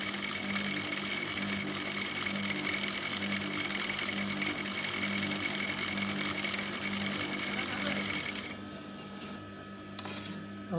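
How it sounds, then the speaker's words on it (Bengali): Sewing machine stitching a baby skirt palazzo, a steady loud mechanical whir running continuously for most of the clip, then stopping abruptly near the end to a quieter room. "আমার প্রথম সেলাইটি দেওয়া হয়ে গেছে"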